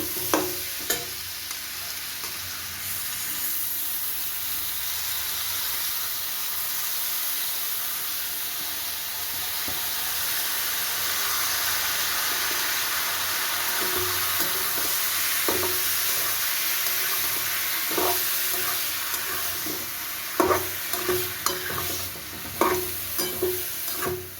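Chopped banana flower sautés in a spiced masala, a steady hissing sizzle in the pan with scraping stirs and clinks from a utensil, growing busier toward the end.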